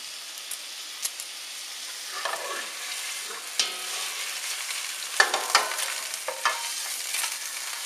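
Pork tenderloin frying in a pan, a steady close sizzle punctuated by clicks and clanks of tongs turning the meat against the pan.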